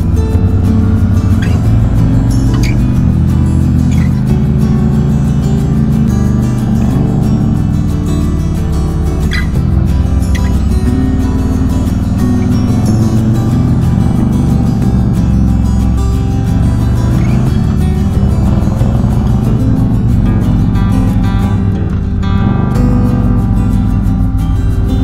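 Harley-Davidson motorcycle engine braking in low gear on a downhill mountain road, a steady loud low rumble with continuous wind and road noise throughout.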